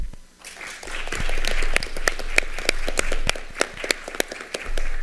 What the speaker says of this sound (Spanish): Sí, yo me aplaudo solita.